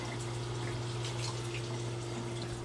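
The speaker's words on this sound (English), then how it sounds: "Rinse them off one by one." Potatoes being rinsed one by one under a running kitchen tap: a steady close stream of water splashing, with a constant low hum beneath it.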